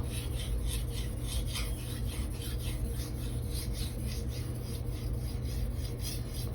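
A 240mm Gyuto knife of Blue Super steel is drawn over a Naniwa whetstone in a steady, close rasping scrape that repeats in even back-and-forth strokes.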